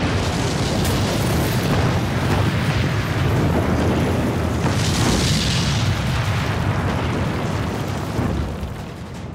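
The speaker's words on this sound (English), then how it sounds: "Lancasters dropped both high explosive and incendiary bombs." High explosive and incendiary bombs from Lancaster bombers going off as a continuous loud roar of rumbling blasts, with no talk and a slight fade at the end.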